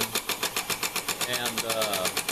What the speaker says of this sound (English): Sounds kind of like a sewing machine, but that's because of the rocker arm setup that I have on this engine